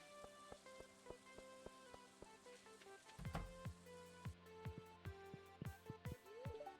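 Steady rain patters on surfaces with scattered sharp drips and splashes, a continuous wet hiss throughout, in the video game Stardew Valley.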